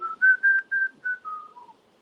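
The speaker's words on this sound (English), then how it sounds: "I'm whistling." A person whistles a short tune of about seven sustained notes that slowly step downward, close and clear, with no talk.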